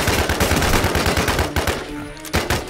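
Rapid gunfire in the survival shooter Infestation The New Z, a fast close rattle of shots that breaks off near the end before a final loud report.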